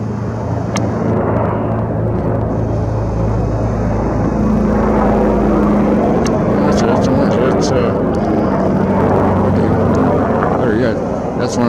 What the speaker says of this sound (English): That's one of those Sikorsky types.